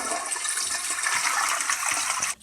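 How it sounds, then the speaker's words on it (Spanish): Toilet flush sound effect played from a meme sound app: a loud, continuous rush of swirling water lasting a couple of seconds, then cutting off abruptly. "el de un excusado cuando le bajas."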